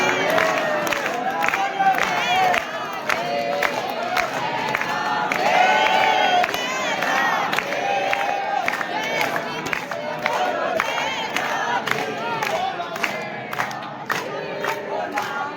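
A dense crowd celebrating Lathmar Holi in Braj, near the Radha Raman temple, shouting, cheering and whooping without pause, with voices close by and loud throughout.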